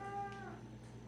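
A senior cat gives a single soft, drawn-out meow, close and fairly quiet, fading away over a low steady background hum.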